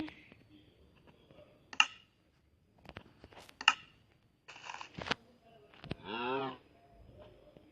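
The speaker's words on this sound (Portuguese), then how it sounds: "Agora cadê aquela vaca?" A cow lows in the Minecraft video game, a single drawn-out moo rising near the end amid scattered game clicks and quiet background, with no one talking.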